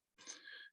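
A single short sneeze at a press conference, faint and alone, lasting about half a second.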